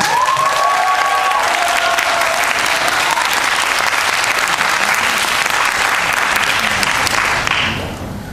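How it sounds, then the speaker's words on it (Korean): A large theater audience at a musical performance applauds steadily to welcome the musical director, a dense continuous clapping that fades out at the end. "큰 박수로 환영해주세요."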